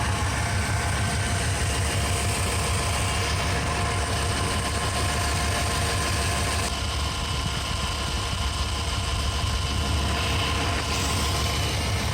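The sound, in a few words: truck engine idling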